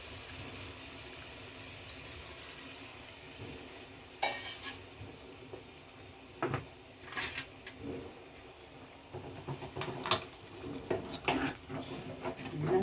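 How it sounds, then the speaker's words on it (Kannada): Tamarind gojju with garlic and small onions cooks in a pan, a low steady sizzle under intermittent spoon scrapes and stirring knocks, close and moderately quiet. "ಸ್ವಲ್ಪ ಚೆನ್ನಾಗಿ ತಿರುಗಿಸ್ಬಿಟ್ಟು ಬೇಯಿಸ್ಬಿಡೋಣ."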